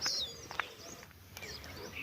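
Faint, scattered bird chirps sound outdoors at a distance, a few short high tweets over quiet ambient noise.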